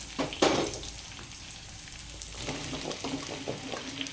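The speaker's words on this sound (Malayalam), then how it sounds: "നമുക്ക് മത്തനും കൂടെ അതിലേക്ക് ഇട്ട് കൊടുക്കാം" Pumpkin pieces hit hot coconut oil with chillies and onion, setting off a sharp sizzle and crackle, followed by quieter frying and stirring scrapes.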